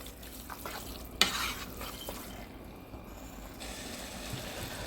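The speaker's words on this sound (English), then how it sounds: "Stir. Real well. Stir, stir, stir." Dirty rice stirred in a pan, with scraping and clicking scrapes of the spoon against the pan, one sharp knock near the start, steady and close with no talking.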